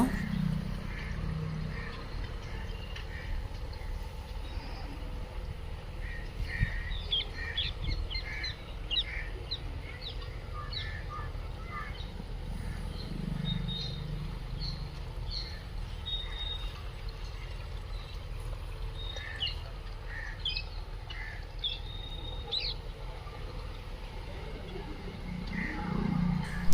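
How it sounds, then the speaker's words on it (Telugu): Birds call faintly around a natural farm planted with potatoes, scattered thin chirps drifting over a steady low outdoor hum for the whole stretch, distant and soft. "పక్షులు అరుస్తున్నాయి"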